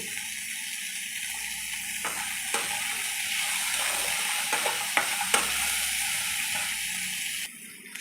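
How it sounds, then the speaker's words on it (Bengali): Chopped onion, spices and about ten cashews frying together in a pan, a steady broadband sizzle with occasional stirring clicks and scrapes throughout, close and fairly loud, no talking. "সমস্ত মশলাগুলো আমি হালকা করে ভেজে নিয়েছি"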